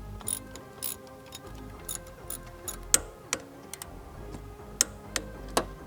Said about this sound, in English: these are gonna get torqued down to 35 Newton meters